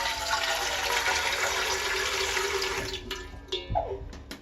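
500 ml of water pours steadily into a pressure cooker in a continuous rush, then stops, followed by a few small clunks and handling sounds.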